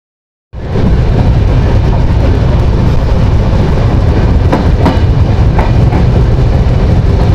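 Ruposhi Bangla Express train from Dhaka to Jessore, near Narail station, bursts into a loud, continuous close rumble with scattered metallic clanks and knocks, and no voices.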